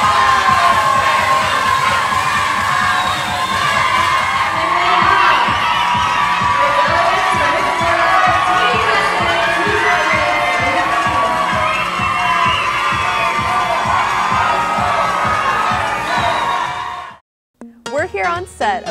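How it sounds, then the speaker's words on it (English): A crowd cheers and shouts with excited high voices at the Miss Florida Teen USA evening gown preliminary pageant show, loud and sustained over a steady low pulsing beat, then cutting off abruptly near the end. "Can we have a round of applause?"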